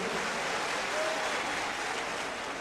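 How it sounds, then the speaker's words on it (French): Convention delegates in a hall applauding themselves, a dense, even wash of clapping from a large crowd, sustained without break. "Et je vous prie de vous applaudir vous-même,"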